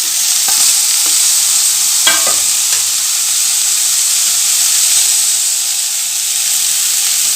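Tomatoes sauté with shallots in a hot pan for a mutton paya, a loud continuous sizzle and hiss with a few scraping stirs near the start.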